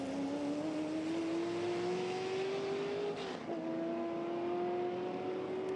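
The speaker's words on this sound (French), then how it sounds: "La 51, c'est la Ford GT40 de Grant Tromans et Richard Midden qui a pris l'avantage" A Ford GT40 race car at the Le Mans Classic drones past with a steady, rising engine note that dips briefly as it shifts, then continues over constant background roar.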